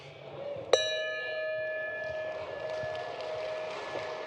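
A single bell strike calling a meeting to order rings out clearly and sustains in a long, slowly fading tone over a quiet, murmuring room.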